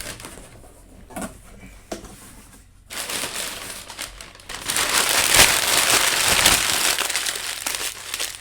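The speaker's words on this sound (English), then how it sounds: "As you can hear, a lot of paper in here." Large sheets of packing paper crinkle and crush during an unboxing of a Crunchyroll anime collection order, quiet rustling at first, then a loud, sustained, close crackling rush that fills the second half.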